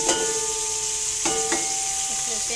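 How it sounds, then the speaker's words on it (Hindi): Garlic fries in hot oil for biryani, a steady close sizzle interrupted by a few sharp clinks of a utensil against the pan, with no talking. "ऑयल हो गया गर्म, लहसुन रख"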